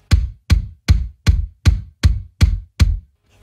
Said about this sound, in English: The kick drum was processed through the WA273 EQ and the JBL 7110 compressor, and it sounds like this.